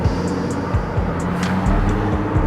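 A 900-horsepower Nissan GT-R R35 with a large rear wing rumbles nearby on a backroad cruise, a deep, steady engine drone with a few brief rises and crackles, loud and with no talking.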